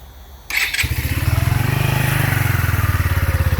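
A Phantom 125 motorcycle starts with its intake silencer removed, a brief starter whir followed by the engine catching into a steady, fast-pulsing idle, loud and close.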